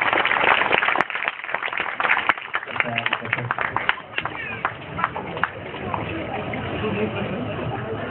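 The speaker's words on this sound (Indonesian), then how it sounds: "beri tepuk tangan dulu untuk ini ya" Audience applause at a Palang Pintu Betawi performance in Yogyakarta, a dense burst of clapping from a crowd that thins out over several seconds while a voice talks over it.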